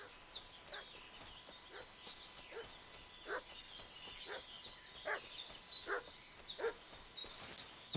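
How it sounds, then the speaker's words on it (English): A dog barks repeatedly in Kingdom Come: Deliverance II, a string of short, fairly distant yelps in a loose rhythm that quickens toward the end, set against a quiet outdoor ambience with a faint hum. "What's that dog making such a fuss about?"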